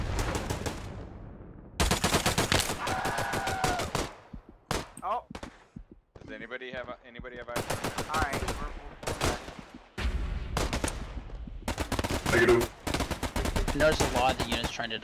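Bursts of automatic gunfire and rifle shots from the Hell Let Loose war video game, dense and loud in long clusters with brief pauses, while a player talks over the radio throughout.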